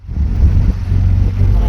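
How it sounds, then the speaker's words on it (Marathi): Auto-rickshaw engine drones low and steady throughout a short ride, a continuous rumble with slight rises in revving and no pauses. "जातो रिक्षातून."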